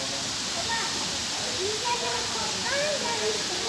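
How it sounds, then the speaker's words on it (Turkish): An artificial waterfall fed by natural spring water rushes in a steady, broad hiss, with people talking nearby and faint children's voices over the constant flow. "yukarıya doğru şelale yapmışlar ama şelale yapay"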